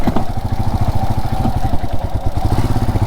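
Motorcycle running loud and close on a ride toward Gandikota in Andhra Pradesh, its engine throbbing in a fast, steady pulse with some rattling clatter throughout.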